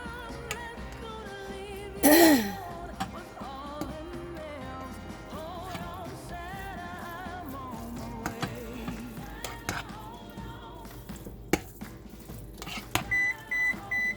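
A home kitchen oven signalling it is preheated: a few short, thin electronic beeps near the end, over faint kitchen clatter, following a brief loud knock earlier.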